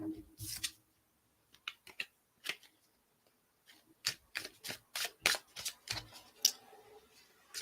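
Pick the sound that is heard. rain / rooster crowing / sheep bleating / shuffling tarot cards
shuffling tarot cards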